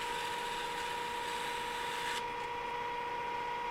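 A metal axle for a PM Research Solar Stirling engine spins steadily while 440 grit abrasive smooths off a burr, a continuous close whirring hum with a faint ratcheting grind that softens slightly partway through.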